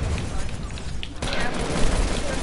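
Rapid bursts of compact SMG fire crackle in a video game as a dense, fast fusillade. The shots run continuously under a player's excited talking.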